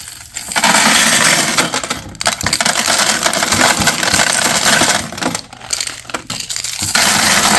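Pennies, nickels and dimes pour and drop in a long jangling metallic cascade, loud and continuous with bright clinks, pausing briefly twice before resuming.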